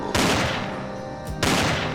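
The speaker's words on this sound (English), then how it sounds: "I'm destroying all the blocks behind him, shooting through his head" Rapid bursts of gunfire in the video game Empyrion: Galactic Survival as a creature is shot, two loud sustained volleys split by a brief gap.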